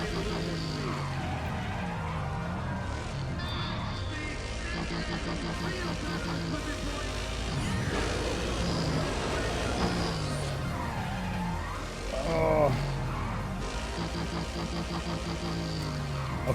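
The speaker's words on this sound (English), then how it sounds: "drifting in a Chevelle is going to be ridiculously difficult" A Chevelle drifting on a drift circuit in Need for Speed ProStreet: continuous loud engine drone with tire squeal and skidding throughout, and engine pitch rising and falling as the car slides through the corners.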